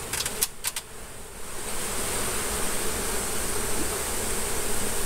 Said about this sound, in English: there's a whole bunch of bees way back in the floor frame in there